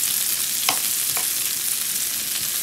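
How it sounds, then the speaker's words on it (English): Onions sautéing and sweating in a pan toward light brown, a steady close hiss of sizzling with a couple of brief stirring scrapes and no talking. "right now I'm just sauteing the onions, letting them sweat until they get to a light brown"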